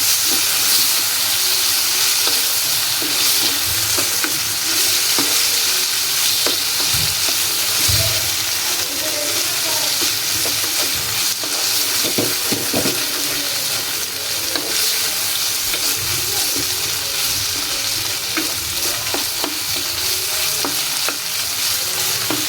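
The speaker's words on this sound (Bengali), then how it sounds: "এখন আলুটা গাজরটা দিয়ে দিব এটা এখন একটু ভেজে নেব মাংসের সাথে সুন্দর করে" Potatoes and carrots fry with meat in a pan, a loud, steady sizzle and hiss throughout, with occasional scraping stirs and no voices.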